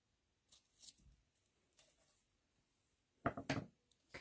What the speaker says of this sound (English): And then trim that off.